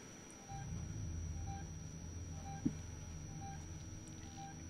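Motion tracker from Alien: Isolation gives soft, evenly spaced beeps about once a second, five in all, faint over a low droning ambience.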